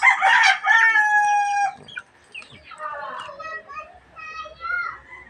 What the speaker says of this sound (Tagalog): Yung tatlong sisiw guys oh.